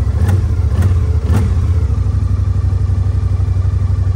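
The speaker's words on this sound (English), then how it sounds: "press the start button here with the brake held in, and the bike starts up" A Kymco CV3 550 three-wheeler motorcycle starts up, with a few clattery cranking bursts in the first second and a half before settling into a steady, loud, close idle.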